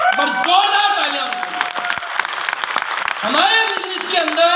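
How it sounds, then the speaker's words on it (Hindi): Applause from an audience at a motivational business talk, clapping heard underneath a loud voice speaking over a public address system, with sharp claps scattered throughout. "बस जोरदार तालियां।"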